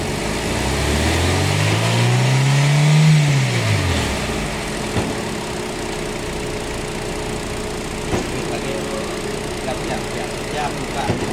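A car engine revs up during an air-conditioning system check, a rising and falling roar that then settles to a steady idle, with people talking nearby.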